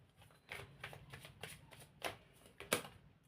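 A tarot deck being shuffled and cards drawn, close by, with several crisp riffling bursts and papery slaps spaced irregularly over a quiet background and no speech.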